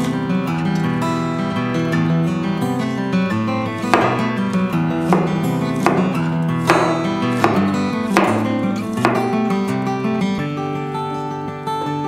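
A knife slices through onion for a spicy seafood salad, making crisp, evenly spaced cuts about once a second over background music.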